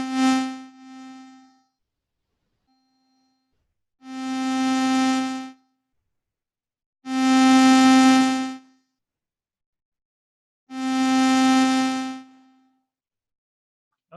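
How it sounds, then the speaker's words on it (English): Synthesizer tone slowly pulsed by sine-wave amplitude modulation, swelling and fading smoothly in three or four long, evenly spaced bursts separated by near-silence, clean and alone. "that's amplitude modulation"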